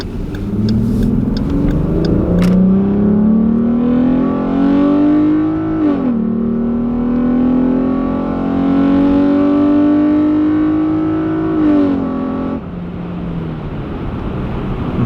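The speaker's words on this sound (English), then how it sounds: "The car sounds way more beefy than it used to." A Dodge Durango V6 engine with a K&N aftermarket intake drones steadily with rising and falling revs, a deep growling intake note heard from inside the cabin with the windows up for the whole stretch.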